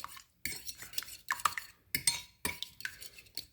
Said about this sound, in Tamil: எக் பீட் பண்ணுறதுக்கு ஃபோக் யூஸ் பண்ணுங்கள்.